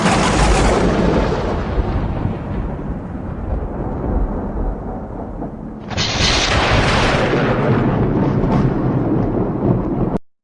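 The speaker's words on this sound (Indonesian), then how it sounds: "Ini tadi adalah suara petir." Thunder from a thunderstorm, one long loud continuous rumble and roar that eases slightly, then swells again with a fresh crack around the middle before cutting off, with a rain-like hiss underneath.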